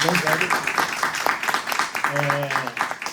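Audience applause after a conference talk at a philosophy seminar, clapping from a modest group that is partly mixed with voices talking over it, irregular and fairly close.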